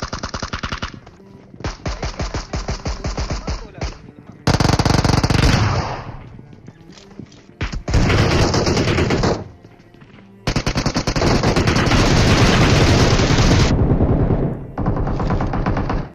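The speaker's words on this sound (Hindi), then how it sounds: "और फायरिंग देखो यहाँ पे क्या ताबड़तोड़ होती है" Rapid gunfire between teams on facing rooftops in a video game, with long bursts of automatic fire, loud and close, broken by short pauses and overlapping volleys, with no talking.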